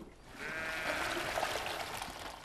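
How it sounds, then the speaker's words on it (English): Sheep grazing on a rural Romanian hillside bleat in a steady, wavering call over a broad wash of outdoor noise, moderately distant and with no talking. "the milk, which we have to go and get from the sheep that graze on the hillsides around here"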